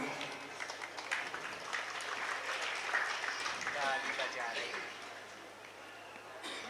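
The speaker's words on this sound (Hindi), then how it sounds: "मिटने पर ताली बजा रहे हो।" Applause from an audience at a Hindu spiritual discourse in Chaurai, Chhindwara, a steady broadband clatter lasting the whole stretch with a voice speaking over it.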